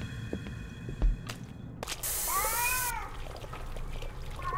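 A cat meows in the indie horror game Erie, giving a couple of clear, wavering, rising-and-falling cries in the middle of the clip over a low rumbling game ambience, with a few sharp knocks before it.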